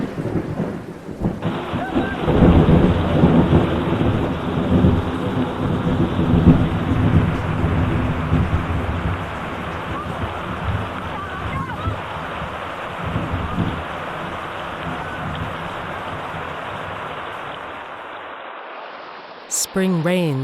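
Heavy spring rain with rumbling thunder, a dense continuous downpour with deep rolling booms, loudest early on, then easing and fading toward the end before an abrupt cut.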